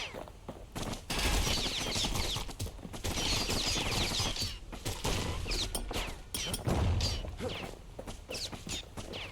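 Musket gunfire in the video game Bastion, with dense bursts of shots and heavy impacts, loud and near, with several short pauses across about nine seconds.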